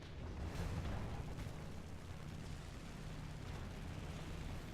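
Aircraft strafing enemy tanks in the War Thunder video game, a continuous dense roar of rapid gunfire and rumbling impacts filling the whole stretch, loud and unbroken.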